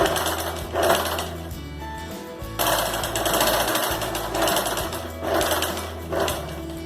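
A sewing machine stitches a zipper onto a small triangular samosa pouch, a loud, close, continuous rattling run with brief pauses and changes in pace, and no voices.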